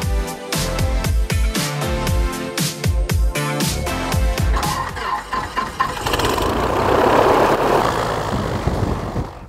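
A floatplane engine taxiing on a lake chugs in uneven, pulsing bursts at first, then settles into a louder continuous roar close by.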